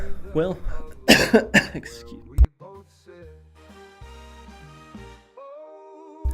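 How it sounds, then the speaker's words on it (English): A man gives a burst of several harsh coughs near the start, followed by quieter voiced sounds. "excuse me, I'm just a coughing man today"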